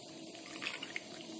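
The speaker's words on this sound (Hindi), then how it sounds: "मैं इसमें थोड़ा सा ठंडा पानी डाल रही हूँ।" Cold water pours into a pot of curdled milk while making rasgulla, a short, steady splashing rush heard close up with no talk.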